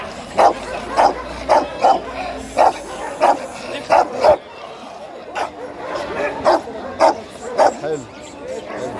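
A guard dog barks repeatedly in short sharp yips at a steady pace, close up, at a Friday dog market, with people talking in Arabic over and between the barks.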